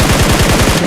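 Rapid automatic gunfire sprayed in the BGMI mobile battle royale game, a steady fast burst of evenly spaced loud shots running the full moment without pause, close and dominant with no talk over it.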